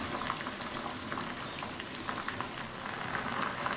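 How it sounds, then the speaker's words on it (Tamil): Water bubbles vigorously at a rolling boil in a pot of kozhukattai dumplings, a steady close burbling with small popping splashes throughout. "இப்போ மறுபடியும் தண்ணி நல்லா தளதளன்னு கொதிக்குது."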